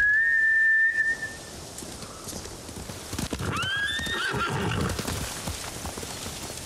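Samurai horses in Ghost of Tsushima give a loud, clear neigh and then a rising whinny, with hoof clip-clop and movement noise underneath. A faint whistle-like tone sits at the start, and no one speaks.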